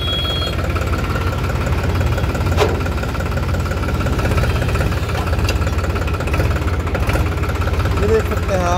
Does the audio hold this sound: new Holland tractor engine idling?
yes